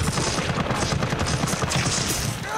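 Rapid gunfire in Resident Evil 3 from a video game fight: a dense burst of booming shots crackles continuously, loud and close throughout.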